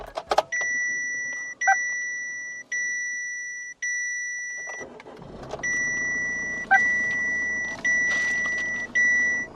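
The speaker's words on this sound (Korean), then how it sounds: "시동 한번 걸어볼게요" A repeating electronic chime beeps steadily inside a Chevrolet Captiva SUV with about 95,836 km, then the engine cranks and catches around midway, settling into a low idle under the continuing chimes.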